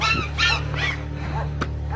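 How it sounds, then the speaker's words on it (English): A puppy yips and whimpers in a few short, high bursts close by, over a steady low hum from the room. "Oh, so cute, little puppy."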